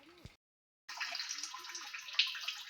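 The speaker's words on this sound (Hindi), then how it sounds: "पानी की धारा इस तरीके से ड्रम में जमा हो रही है" Meltwater from snow stacked above trickles in a steady stream into a drum, a continuous close splashing pour that starts after a brief silence, with a short faint sound just before.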